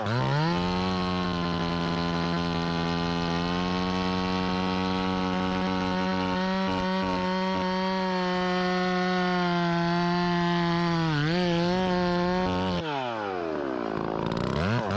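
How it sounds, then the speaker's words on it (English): A chainsaw bucks a saw log in a steady, close, high-revving drone for about fifteen seconds. Its pitch bogs briefly near the end, then it drops off and revs again. "as I start down through this saw log, y'all watch that kerf over there on the top start to open up"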